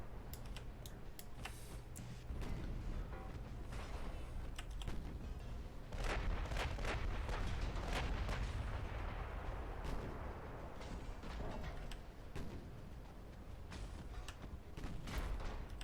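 Naval guns firing in the warship battle game Ultimate Admiral: Dreadnoughts, with repeated sharp booms and crackling blasts over a steady low rumble, growing denser and louder midway, with no talk.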